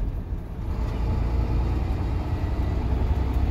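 A truck engine drones steadily while pulling up a hill in seventh gear, a continuous low rumble close to the cab with no speech.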